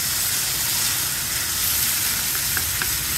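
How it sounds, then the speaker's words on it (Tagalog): Onion, garlic and tomato sauté in olive oil for ginisang bagoong alamang, a steady, close hissing sizzle with a few faint clinks of stirring. "Gigisa na tayo. Lagyan ko na ng mantika, olive oil."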